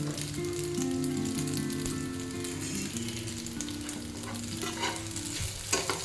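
Macaroni pasta fries in a pan and is stirred, a steady close sizzle and crackle with occasional scraping strokes and no talking.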